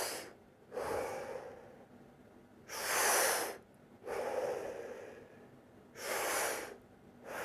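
Deep diaphragm breathing during a daily training exercise, heard as slow, close, audible inhales and exhales through the nose and mouth in a steady alternating rhythm, four or five breaths, with quiet pauses between.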